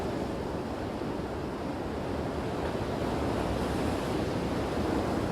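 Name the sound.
storm surge waves from the Salish Sea hitting the coast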